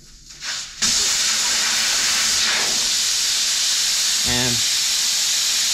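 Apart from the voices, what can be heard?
air hissing out of tire when valve core removed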